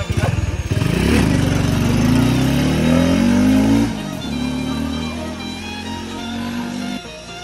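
Honda Wave 110 motorcycle with a new clutch spring and lining, engine revving up through rising pitch on a road test, then easing and holding a steady drone, loud and close.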